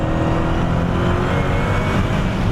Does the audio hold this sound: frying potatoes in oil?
no